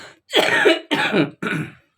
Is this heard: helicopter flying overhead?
no